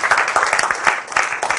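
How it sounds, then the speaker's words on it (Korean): Loud, close applause from a university class audience, brisk and dense clapping that holds steady for a brief moment. "박수 한번 크게 쳐주고요"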